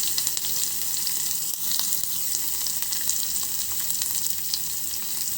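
Dried red chillies, garlic and ginger paste fry in a pan with a constant, close, bright sizzle and crackle that stays even throughout.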